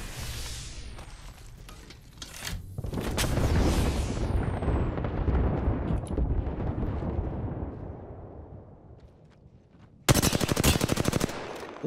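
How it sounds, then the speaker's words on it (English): Heavy gunfire and rumbling air strike explosions fill an Apex Legends firefight, a long rolling roar of blasts followed near the end by a sudden loud burst of rapid shots. "Air strike."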